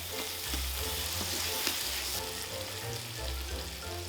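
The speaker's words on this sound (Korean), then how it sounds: "자, 토마토도 넣었고 이제 양고기를 넣어야겠죠?" Lamb pieces frying in a pan with tomatoes for a curry, a steady close sizzle with stirring and occasional clacks of a utensil against the pan throughout.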